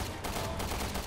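Rapid gunfire rattles in Resident Evil Revelations 2, a fast burst of repeated sharp shots in quick rhythm, loud and close throughout.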